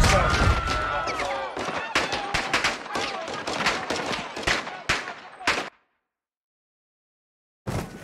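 Gunfire in the Modern Warfare 2 campaign: rapid automatic bursts and sharp shots, loud and close, with clipped voices mixed in, then cut off into silence before a brief final burst.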